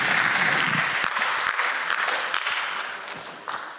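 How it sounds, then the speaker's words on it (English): A crowd applauds in a hall at a regional innovation week event, loud and dense at first, then thinning out and fading over a few seconds. "Can we give a round of applause"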